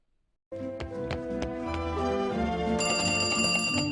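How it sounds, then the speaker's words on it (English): A telephone rings in a Pokemon Fire Red parody with a bright, repeating bell-like trill that starts abruptly after a short silence and continues steadily to the end. "But then I got a phone call."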